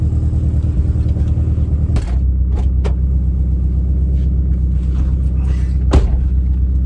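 Subaru STI engine running on a test drive after boost leak and mass airflow sensor fixes, a steady loud low rumble with a few faint clatters over it.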